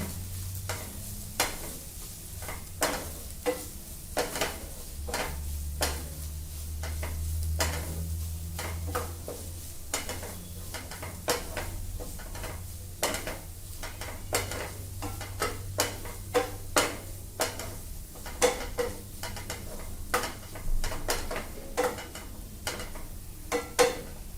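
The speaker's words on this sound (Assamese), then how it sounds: "আমি কাটি থোৱা ধনিয়াখিনি ইয়াত দি দিম ধুনীয়াকৈ মিলাই দিম" Paneer and tomato curry with coriander stirred in a pan, a spoon scraping and tapping in irregular strokes over a soft, steady sizzle, close and fairly quiet throughout.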